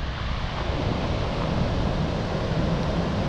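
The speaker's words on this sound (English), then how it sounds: "Actually big waves today," Big ocean waves break at Corralejo, Fuerteventura, a loud continuous roar of surf mixed with strong wind buffeting the microphone.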